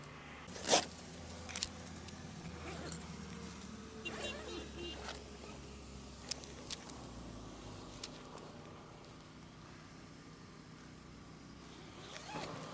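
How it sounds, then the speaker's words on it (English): Short zipping sounds of zippers on an inflatable maze come in quick bursts, one sharp pull early and a few fainter ones later, over a steady low hum of blowers. "And we still got those 3 zippers on this side."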